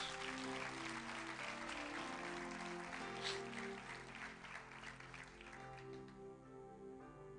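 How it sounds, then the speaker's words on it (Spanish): A church congregation applauds loudly and steadily after a pastor calls for praise, with sustained broadband clapping over low organ or keyboard chords that ease slightly toward the end. "Den un fuerte aplauso a Dios"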